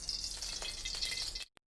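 Chana dal sizzles in hot oil in a pan while making karivepaku karam, a bright steady frying hiss close by that cuts off abruptly near the end, followed by one small knock.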